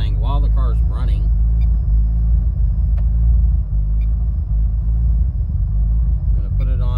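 A Fueltech-managed Mitsubishi Evo 8 idles with a deep, loud, steady rumble close by, someone talking briefly at the start and end over the engine.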